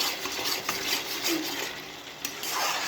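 A spoon stirs salt and turmeric through a vegetarian pea dish in a pan, making a steady close scraping and soft clinking against the metal with no voices.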